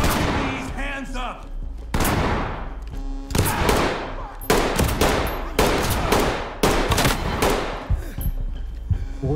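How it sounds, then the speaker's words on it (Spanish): Gunfire in the tactical shooter video game Ready Or Not, a rapid series of about a dozen loud, sharp shots in uneven bursts with ringing decay, followed by a voice briefly talking. "le metí como 5 tiros y no se murió este perro"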